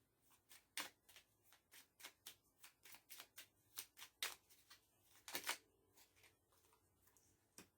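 Tarot cards being shuffled for a reading, a steady run of crisp riffling snaps and soft flutters, close-up and quiet, with faint background music.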